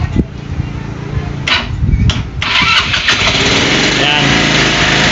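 A motorcycle engine is started: a few cranking bursts, then it catches and settles into a loud, steady idle close by, with a person talking at the start.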